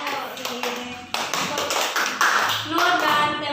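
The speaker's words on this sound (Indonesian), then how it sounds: "Berikan tepuk tangan untuk" Classroom applause in a Year 5 primary school lesson, uneven clapping in irregular bursts with children's voices talking over it.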